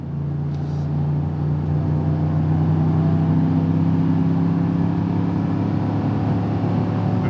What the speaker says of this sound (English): Alright, I'm giving the truck the beans here.